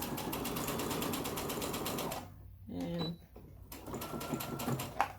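A sewing machine stitching a lunchbox placemat runs in a steady close whirring hum, stops briefly partway through, then starts up again, with a voice talking quietly over it.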